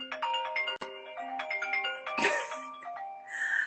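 A phone ringtone plays a short melodic run of clear electronic tones, fairly close and steady, with no one speaking over it.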